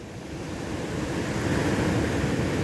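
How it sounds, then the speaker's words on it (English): Ocean surf breaks steadily on a beach with a sandbar offshore, a continuous broad roar of crashing and washing water that swells slightly louder, with some wind across the microphone and no voices. "if it weren't for the sandbar out there in the distance, we probably wouldn't be seeing as many waves as we do right now"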